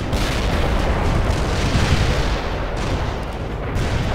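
Artillery fires in the war strategy game World in Conflict: a loud, continuous barrage of deep booms and rumbling blasts rolls on without pause, with no speech.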